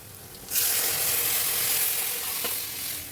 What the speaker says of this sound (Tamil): வெங்காயம் நல்லா வதங்கினா தான் நல்லாயிருக்கும் டேஸ்ட்டாக இருக்கும் குழம்பு அதனால வெங்காயம் நல்லா வதங்கட்டும்